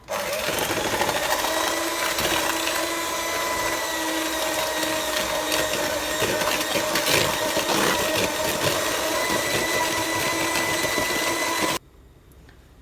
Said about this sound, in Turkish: Şimdi yumurtayla şekerimi güzelce çırpacağım.